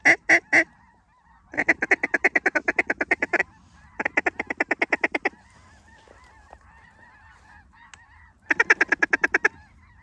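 Geese honk repeatedly in loud, close bursts of rapid calls separated by pauses, recorded during a waterfowl hunt in western Manitoba, Canada, with faint calls continuing between the bursts.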